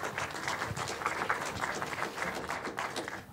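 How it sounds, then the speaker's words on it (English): Audience applause at a public meeting, a moderately loud, steady patter of many hands clapping that fades slightly at the end. "I'm sure your applause are not for me"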